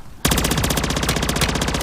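Rapid automatic gunfire in a zombie video game, a continuous fast stream of loud shots starting abruptly and running without a break.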